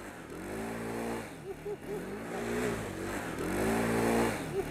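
Widescape WS250 off-road vehicle engine revving loudly and steadily up close, with rising and falling pitch as the throttle changes, alone without talk.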